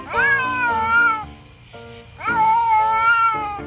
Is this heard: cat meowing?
yes